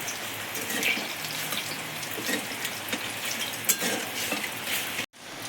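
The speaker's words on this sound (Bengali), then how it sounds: "চিনিটা গলে গেছে আর ফুটে উঠেছে" Sugar and water boil into syrup in a pan for a palm sweet, giving a steady bubbling sizzle with scattered pops and a brief clink near the end.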